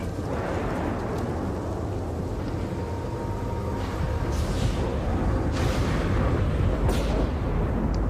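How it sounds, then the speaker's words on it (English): Distant explosions rumble through a video game trailer, a dense low roar with several muffled booms swelling in the second half, no speech. "Explosions in the distance."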